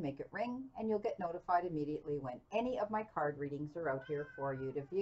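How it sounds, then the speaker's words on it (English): A pet cat meows repeatedly and loudly close by while a person keeps talking over it. "That's my cat"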